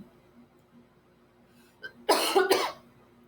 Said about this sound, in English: you can see it's making me cough